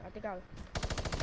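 Rapid, loud assault rifle fire in a video game erupts in sustained automatic bursts with an even rhythm, following a brief stretch of voice talking.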